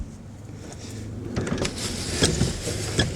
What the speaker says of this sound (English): The doors roll up and down good.